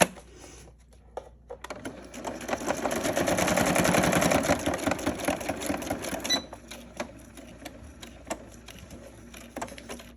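A sewing machine stitches through stacked layers of paper scraps, running in a steady mechanical whir that builds and then breaks into short rapid bursts of stitching, close and clear.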